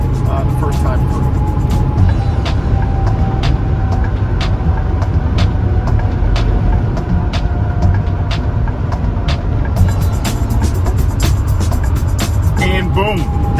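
A vehicle cruises along a highway, giving a steady, loud road rumble and wind roar from inside the cabin while a person talks over it.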